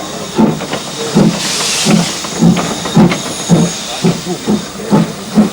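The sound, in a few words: steam locomotive on Kent and East Sussex Railway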